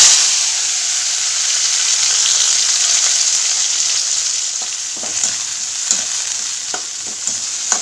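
Chopped tomatoes sizzle and fry steadily in a hot pan for mutton thokku, with a constant bright hiss and a few soft stirring clicks near the end.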